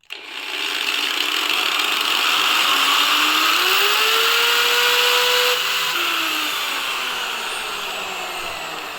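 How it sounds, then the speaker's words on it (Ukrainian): An angle grinder runs on a DIY LiFePO4 power station's inverter, a loud steady motor whine that spins up and holds for several seconds, then eases slightly near the end. "наступний наш тест це спробуємо підключити болгарку"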